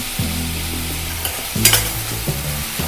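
Sprouted moth bean usal with tomato being stirred in a pan, a spoon scraping in a few long strokes with a brief sizzle, close and clear with no talking.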